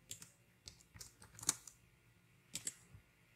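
Quiet keystrokes on a computer keyboard as a channel name is typed, scattered taps in short uneven bursts with a few sharper clicks, fairly close and alone.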